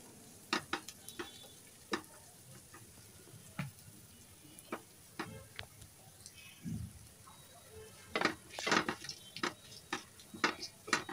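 Three dried red chillies crackle in hot oil for a cabbage stir-fry, with sharp scattered pops and scraping stirs, quiet between bursts and busier toward the end.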